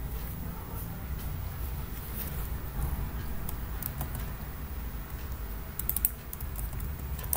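Quiet, continuous patter of keys on a computer keyboard as Python code for a Plotly bar chart is typed, the clicks close and soft with a few louder taps near the end.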